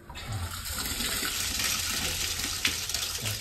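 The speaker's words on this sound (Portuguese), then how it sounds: "Essa é a descarga." A toilet flushes just after plumbing repair work, a loud steady rush of running water close by that fills the whole stretch and keeps going without a break.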